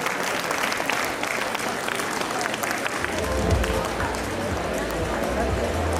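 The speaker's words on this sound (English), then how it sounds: "Round of applause, please." Inauguration audience breaks into sustained applause, dense clapping steady throughout and swelling slightly with cheering murmurs in the second half.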